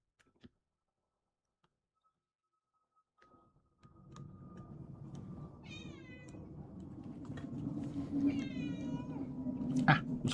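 A cat meows a few times over a steady low hum and small clicks from someone modding a computer mouse at a desk, starting near silence and growing busier and louder.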